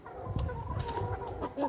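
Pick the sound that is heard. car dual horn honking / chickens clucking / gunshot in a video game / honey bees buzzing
chickens clucking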